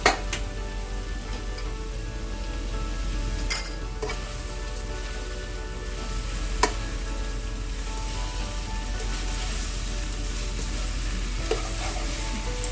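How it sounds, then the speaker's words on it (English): Cauliflower florets frying and being stirred in a sauce with green onions in a pan, a steady close sizzle with scraping stirs and a few sharp clinks of utensil on metal. "And now I'm going to add our"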